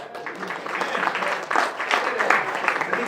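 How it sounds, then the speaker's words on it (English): An audience applauds steadily at a sponsor thank-you during an evening event, a broad wash of clapping that swells midway and keeps going for the whole stretch, without a voice on top. "You can clap for that."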